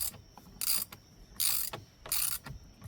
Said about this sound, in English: If you want to, you can start ratcheting it first